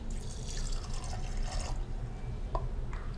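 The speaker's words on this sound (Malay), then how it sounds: "Sekarang kita masukkan air" Water poured into a pot for cooking rice in a home kitchen, a steady splashing and gurgling stream for nearly two seconds, then a few drips and small splashes, close and fairly loud with no talk.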